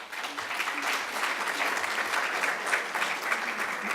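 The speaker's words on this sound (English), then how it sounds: "And we can applaud them because they are amazing people." Steady audience applause fills a lecture hall at an annual evening lecture, a dense, even clapping that holds throughout without voices standing out.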